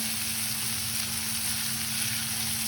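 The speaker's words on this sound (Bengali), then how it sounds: "পেঁয়াজটা আমরা সুন্দরভাবে ভেজে নেব।" Onion, tomato and green chilli fry in oil for Bengali mutton kosha, with a steady, close sizzle and crackle that runs the whole time without a break.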